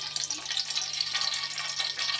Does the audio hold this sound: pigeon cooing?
no